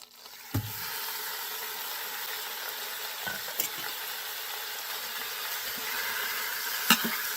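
Steady, dense sizzling of beef browning in a hot Instant Pot, with a few brief clinks and scrapes now and then.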